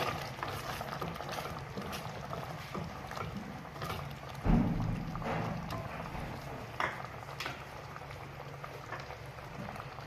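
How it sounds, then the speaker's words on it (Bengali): Cream is stirred into a pan of bubbling malai shahi paneer, with a steady simmering, wet bubbling sound. A soft spoon clunk comes midway, with faint scraping around it, all close and alone. "একটু নেড়ে দিলাম।"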